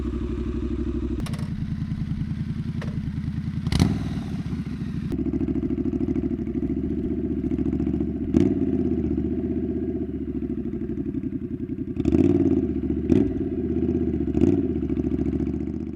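A Triumph Scrambler 900 motorcycle with a 900cc parallel twin engine idling steadily up close, a low throbbing rumble broken by several sharp clicks and brief blips of throttle.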